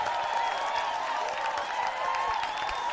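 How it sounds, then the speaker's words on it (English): Rodeo crowd cheering and applauding wildly at an arena event, a dense sustained roar of clapping and voices that stays loud and steady throughout. "and the crowd went wild"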